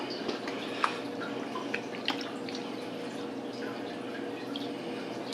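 Water drains out of a washing machine with soft trickling and scattered drips over a low, continuous wash of flowing liquid, fairly faint and close.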